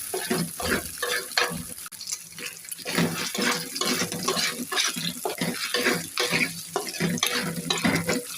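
Water from a tap runs and splashes into a pan during the cooking of a special breakfast egg fry, a steady close rush with stirring clatter and faint sizzling, no voices.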